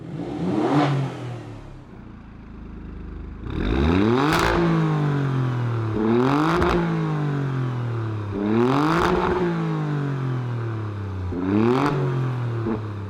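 Alfa Romeo Stelvio Quadrifoglio SUV switched into race mode with exhaust valves open, its engine rumbling loud and close, rising through four repeated rev blips with no talk over it.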